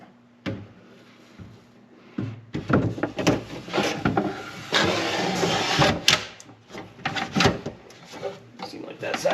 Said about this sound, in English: I'm going to let the drawer down really slow